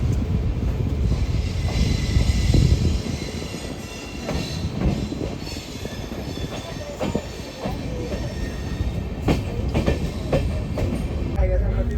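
Sealdah–Malda Town Gour Express passenger train with LHB coaches and a P7 locomotive running at night between Bolpur Shantiniketan and Rampurhat Junction, a loud continuous rumble with rhythmic wheel clatter and occasional squeals.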